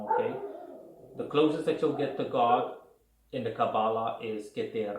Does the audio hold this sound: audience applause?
no